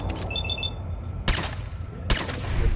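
Two sharp gunshots crack out in Fallout 4, spaced about a second apart and loud against a busy game background of low rumble and faint electronic tones.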